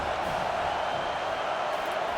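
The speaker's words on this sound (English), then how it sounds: "Decibels rising as the crowd gets behind this defense on 3rd down" Stadium crowd in College Football 25 at a Purdue vs Penn State game, rising behind the defense on third down: a steady, distant roar of cheering that holds without breaks.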